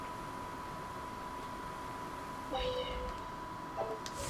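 A short cat meow from the video game Tales of Berseria sounds twice over a steady background hum and noise, fairly faint and with no talking.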